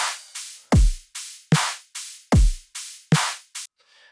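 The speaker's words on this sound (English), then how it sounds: "I have a very basic drum loop here." A looping electronic dubstep drum pattern with booming kicks, sharp snares and hissy hi-hats in a steady half-time groove, heard alone and up close.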